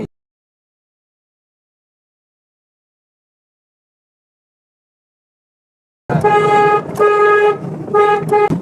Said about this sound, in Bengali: তুমি হর্ন দিয়ে গাড়ি নিয়ে যাচ্ছ